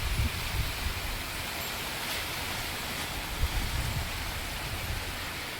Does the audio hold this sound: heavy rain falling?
yes